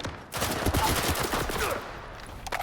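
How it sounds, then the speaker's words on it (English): Rapid automatic gunfire in S.T.A.L.K.E.R. 2: Heart of Chornobyl, a dense, loud, continuous volley of shots lasting about two seconds, close and alone without any voice. "Shooting."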